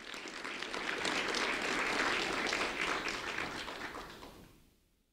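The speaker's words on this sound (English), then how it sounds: "A round of applause for Jackson and Gabriella" Audience applauds two fifth-grade students at a school recognition event; dense clapping swells quickly, holds steady, then tapers off and fades to silence at the end.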